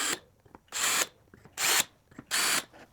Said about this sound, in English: I'm just gonna take my drill and I'm gonna lightly mark each one of these